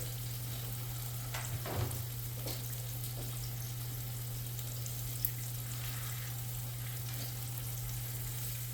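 Flour-dredged pork chops frying in a pan for smothered pork chops in onion gravy, a steady low sizzle that carries on throughout, with a few faint clinks and a brief scrape partway through.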